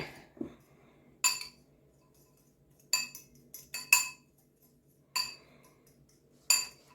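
A utensil clinks against a bowl while brown sugar and cinnamon are mixed together. Sharp, separate taps come a few at a time in an uneven rhythm, close up, with quiet pauses between them.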